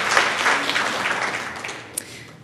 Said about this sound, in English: You can applaud to Christopher.